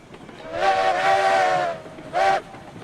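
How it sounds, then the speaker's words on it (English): A steam locomotive whistle in the RailRoads Online video game gives one long blast followed by a short toot, clear and fairly close. "Give a little whistle as we hit the switch."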